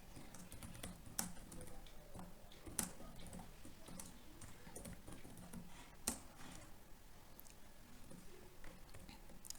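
Someone types an SQL insert command on a computer keyboard, a quiet run of irregular key clicks with a few louder taps spaced through it.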